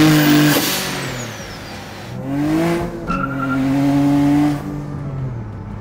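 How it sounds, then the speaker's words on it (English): A turbocharged V6 Honda car driving, its engine and exhaust rising and falling through several gear pulls, with tonal whine and throaty roar close by and loud, no talk. "The sounds this car make are so incredible."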